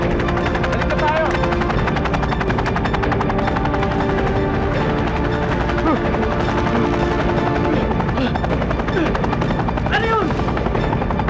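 A helicopter flies in a Filipino action film scene. Its rotor thrums loud and steady for the whole stretch while people speak over it.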